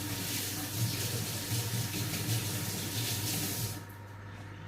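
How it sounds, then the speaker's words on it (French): Tap water runs steadily into a kitchen sink while hands are rinsed during salad preparation, a close, even rushing splash. The flow lasts several seconds, then cuts off near the end. "Je vais me rincer les mains."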